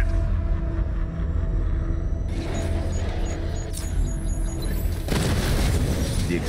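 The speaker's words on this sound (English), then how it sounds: "The explosion disabled the main cannon." Explosion in a superhero video game battle knocks out a main cannon, a loud sustained booming rumble with low roar throughout and a sharp burst of crackling debris near the end, alone with no talk.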